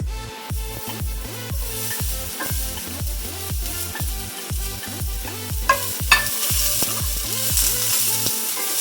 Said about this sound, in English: After the garlic has turned light brown, we're going to add in the onions.